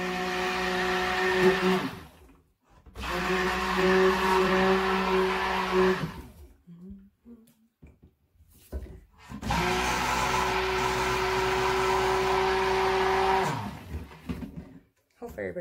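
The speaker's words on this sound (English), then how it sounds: "I'm going to blend this up until it's a light trace, and then we'll add our fragrance." Soap batter is whirred in a handheld blender until it reaches light trace, a loud, steady motor drone run in two long bursts of several seconds with a quiet pause between, close up.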